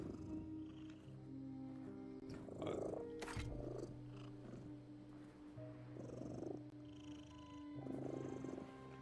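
A cat purrs steadily in The Midnight Walk video game, a low continuous rumble with swelling bursts recurring every few seconds, layered over a droning game ambience.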